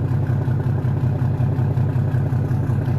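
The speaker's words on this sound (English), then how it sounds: "Sounds like diesel's pushing her." Diesel engine of a river boat on a riverside walk, a steady low throbbing drone with a regular pulsing rhythm, moderately close and constant, no talk.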